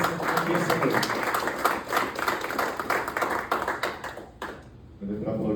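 Audience applause at an evening motivational event, Mente de Elite: steady, dense clapping from a crowd that continues for several seconds before breaking off, with a voice resuming afterward.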